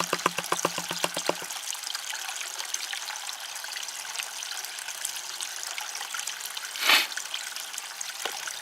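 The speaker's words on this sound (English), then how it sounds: "I want to shake it a little more. I want all the gold to be in the bottom." A gold pan holding water and black sands is shaken, giving rapid rhythmic sloshing at first, then a soft continuous trickle and swirl of water, close and fairly quiet, with one brief louder splash.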